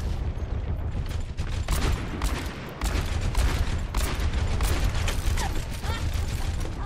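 Rapid weapon fire in the video game Overwatch, a dense continuous clatter of shots with mechanical clicks running through the whole stretch, loud and close, with a brief dip near the middle.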